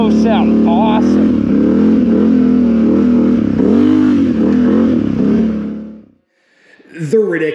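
Can-Am Renegade 1000 XMR ATV fitted with RJWC dual slip-on exhausts revs hard and repeatedly up close, the loud engine note surging and dipping before cutting out, then a short burst of revving returns with a voice faintly present.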